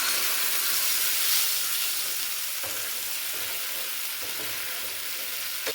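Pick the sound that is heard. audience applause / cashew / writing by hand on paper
cashew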